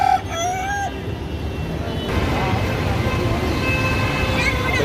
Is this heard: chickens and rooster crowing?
yes